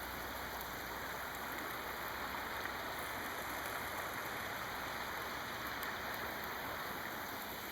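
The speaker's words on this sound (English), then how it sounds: "by this creek that I sometimes come to." A creek flowing steadily on a foggy Saturday morning, giving a continuous broadband wash of running water close by with no voices.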